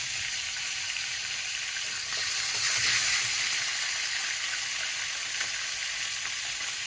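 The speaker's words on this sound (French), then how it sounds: "les viandes, on les fait dorer" Meat browning in an ordinary sheet-iron frying pan for a cassoulet, a steady, even sizzle that holds at a constant level throughout, swelling briefly about midway, with no voices.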